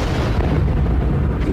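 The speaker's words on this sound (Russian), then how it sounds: "Город сотрясают взрывы." Heavy explosions shake a city during the Vietnam War Tet Offensive, a dense, continuous low rumble of blasts and booms without distinct separate hits.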